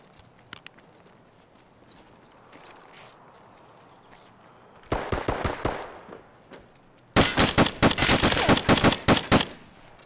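Rapid bursts of M1 rifle gunfire in the Escape From Tarkov video game, a short volley of sharp, loud shots followed by a faster, denser string of close shots near the end, with no talking.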